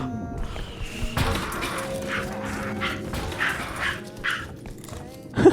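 A dog yips and barks in short bursts amid indoor background noise, with a louder bark near the end.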